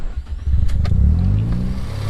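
A Mazda RX-7 FD rotary engine with vacuum line problems cranks and catches, settling into a steady low rumbling idle close by.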